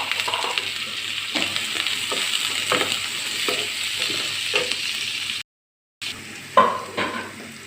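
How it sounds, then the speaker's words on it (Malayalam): Two small, finely chopped onions fry in a pan for pasta, giving a steady close sizzle broken by regular scraping stirs, with a short silent dropout near the end. "രണ്ട് ചെറിയ സവോള ചെറുതാക്കി അരിഞ്ഞേക്കുന്നതാണ് ഇട്ട് കൊടുക്കാം."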